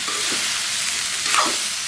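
Ash gourd pieces frying in oil in a pan over a low flame, a steady bright sizzle with two brief stirring scrapes, close and fairly loud.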